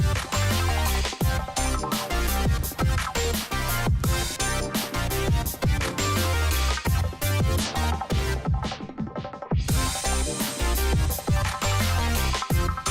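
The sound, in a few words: bass layer a fifth above octave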